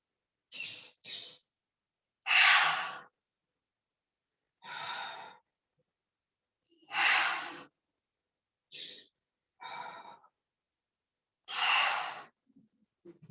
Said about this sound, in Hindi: ये रिलैक्सिंग ब्रीदिंग थी